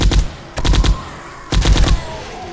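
Weapons fire in the video game 7 Days to Die, sounding as three short rapid bursts of shots with brief pauses between them, loud and close over a low background rumble.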